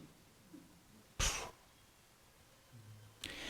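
Two sharp sneezes burst out in a quiet room, the first loud and abrupt, the second a few seconds later, with faint breathing and low murmur in between.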